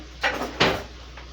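Two muffled kitchen drawer or cupboard knocks, about a third of a second apart, close by in a quiet room as a spoon is fetched, with a fainter third bump after.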